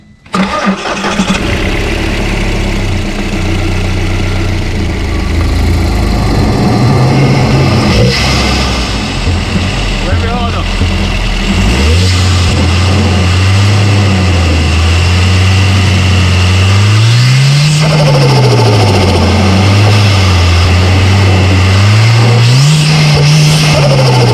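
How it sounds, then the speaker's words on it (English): A Stage 3 Audi A3 8P turbo engine with a failing, oil-leaking turbo starts, idles roughly, then revs up and down repeatedly, the pitch rising and falling in loud, close swells. "My friend's gonna rev the engine."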